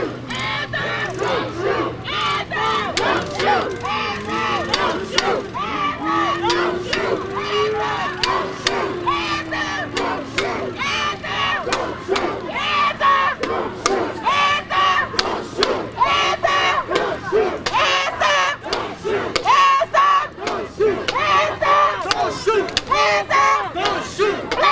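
An outdoor protest crowd of hundreds during the Kim Potter trial, shouting and chanting continuously, with loud overlapping voices, cries and a constant roar of babble that never lets up.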